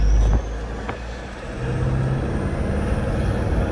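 A Toyota Fortuner SUV drives close by, its engine rumbling loudly and steadily, rising briefly as it accelerates.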